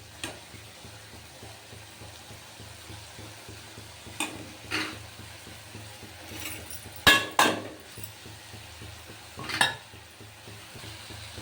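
Beetroot stir-fry with grated coconut being stirred in a pan, a quiet background sizzle broken by a few scattered scrapes and clinks of the spoon against the metal.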